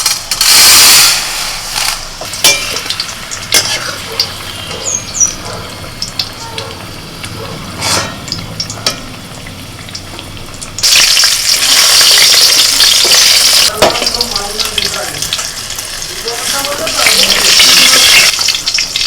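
Dal with drumsticks sizzling loudly in a pan as it fries, broken by repeated scraping stirs; the frying grows louder and denser in the second half.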